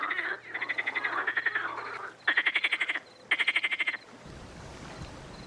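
Frogs in the Vienna woods, including Pelophylax water frogs, call in rapid pulsed croaking bursts, three loud trains of repeated clicks separated by short pauses, close and clear, followed by quieter background noise.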